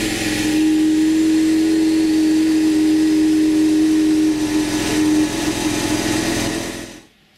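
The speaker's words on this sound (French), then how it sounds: "Je vais vous mettre un montage avec un démarrage à froid, pour que vous entendiez le bruit" A car's engine after a cold push-button start, idling loud and close with a steady droning hum and whine, then cutting off abruptly near the end.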